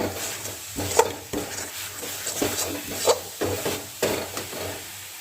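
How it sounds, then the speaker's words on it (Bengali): A spoon stirs and scrapes powdered milk into a sweet filling in a kadai over a low flame, producing rhythmic, close scraping strokes about once a second over a faint, quiet sizzle. "আমি গুঁড়ো দুধটাকে মিশিয়ে দিলাম, ভালো করে লো ফ্লেমে একদম মিশিয়ে দিলাম।"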